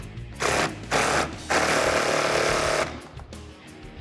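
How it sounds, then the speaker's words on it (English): Pneumatic impact gun driving a 14 mm bolt on a bolt-in 4-point harness seat belt in a 1979-2019 Mustang: loud buzzing rattle in short bursts, then a longer sustained run that tapers to a quieter whir. "Let's go ahead and tighten it down using our 14 on our impact gun"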